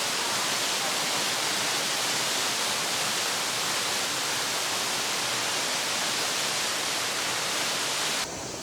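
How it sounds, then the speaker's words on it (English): Shannon Falls, a 335-meter waterfall in British Columbia, roars as a constant broadband rush of falling water, loud and unbroken, heard close up with no voices. "It is the 3rd tallest waterfall in BC at"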